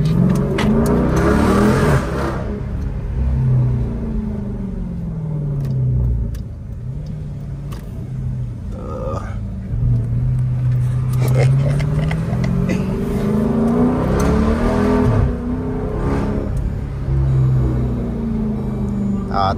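Car engine revving and accelerating in sport mode, a steady mid-low rumble that rises and falls in pitch across repeated surges, heard close from inside the vehicle with occasional faint voices.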